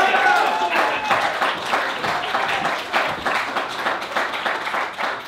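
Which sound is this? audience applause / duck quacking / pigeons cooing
audience applause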